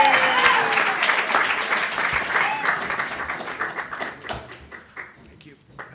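An AA meeting audience applauds to welcome a speaker at the Sunday noon Ohio Street meeting, a warm burst of clapping from a roomful of people that is loud at first and gradually thins out and fades.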